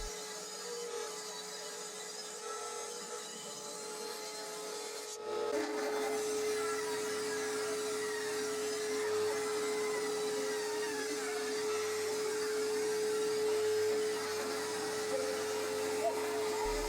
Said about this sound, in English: I could then fire up the bandsaw and run each strip through one by one